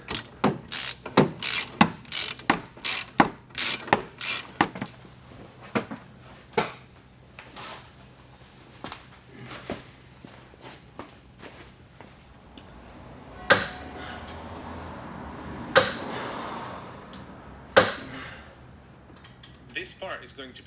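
Ratchet wrench fitted with three socket extensions and a universal joint working tight car bolts in an awkward spot, a rapid run of sharp clicks followed by slower, sparser clicks and a few louder metallic knocks.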